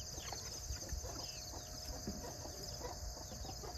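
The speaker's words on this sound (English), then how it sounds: "Oh, I think that's a rooster too." Soft, scattered rooster clucks come and go over a constant background hiss, fairly quiet and somewhat distant.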